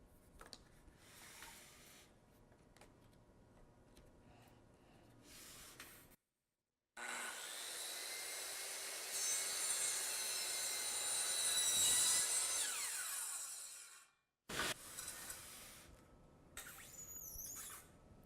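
A woodworking center saw cutting the second side of a double-sided taper in wood, a loud steady high whine and rasp that runs several seconds then stops abruptly, with quieter workshop handling before and after.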